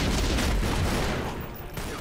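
Loud, dense burst of Tomb Raider: Legend gunfire and an exploding barrel blending into a continuous roar, easing briefly near the end before resuming.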